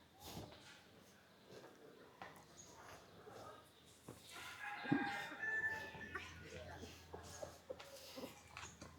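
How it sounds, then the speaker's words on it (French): Hens clucking and squawking nearby in short bursts at Wat Umong temple in Chiang Mai, Thailand, with one sharp louder squawk midway, while a person talks quietly in the background. "Il y a des poules partout."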